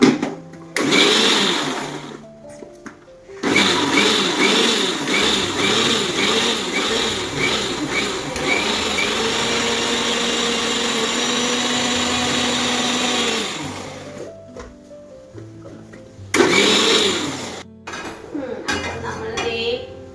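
A mixer grinder whirs loudly as it blends cooked jackfruit for jackfruit payasam, running in long continuous bursts broken by short pauses, with clinks of vessels and utensils between runs.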